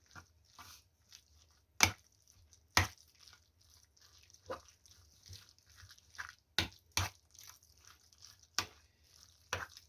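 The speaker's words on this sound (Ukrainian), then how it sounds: "Вимішуємо гарно це все, цю всю нашу масу." Cutlet mince mixture being worked by hand, wet squelching and squishing in uneven, irregular pulses, with occasional sharp knocks of hand or bowl standing out over near silence.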